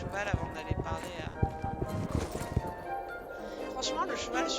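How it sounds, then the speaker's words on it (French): Steady clip-clop of horse hooves from the online horse-riding game Star Stable Online, trotting at an even rhythm, with a brief whinny and a person talking over it throughout. "Attendez, il y a le cheval."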